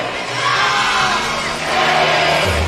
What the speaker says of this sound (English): Good crowd here for the Gamecock contingent, but a mostly partisan Connecticut cheering crowd.